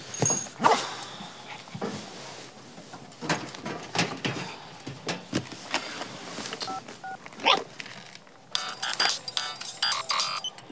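A dog barks in repeated sharp bursts nearby, with scuffling and a high electronic beeping toward the end.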